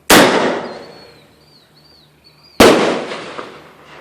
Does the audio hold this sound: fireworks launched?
yes